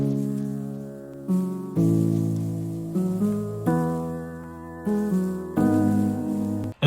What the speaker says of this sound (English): I added a piano that sounds like this.